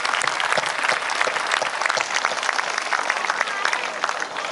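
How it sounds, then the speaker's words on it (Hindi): An audience at a Hindi poetry stage event bursts into sustained applause, a thick, continuous clatter of many hands that holds steady from start to finish. "अच्छी बात पर अच्छी ताली बजनी चाहिए ताकि मंच अच्छी बात कह सके।"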